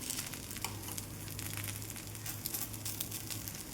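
A green moong dosa roasts on a hot pan, giving a steady, close sizzle with fine crackling and a low hum beneath.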